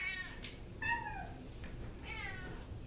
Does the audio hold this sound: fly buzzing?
no